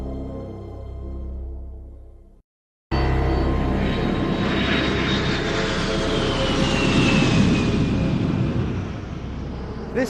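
A military attack aircraft roars past, rising from a brief silence into a loud sustained jet-like rush with a descending whine, fading slightly at the end.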